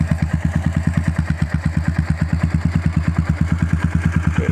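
A motorcycle engine fitted with a stainless steel header exhaust runs at a steady idle, its rapid, even exhaust pulses loud and close throughout.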